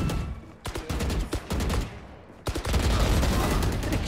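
Rapid video-game gunfire from an online shooter, loud close bursts of sharp shots in quick succession with a short pause mid-way before a dense sustained volley, no talking over it.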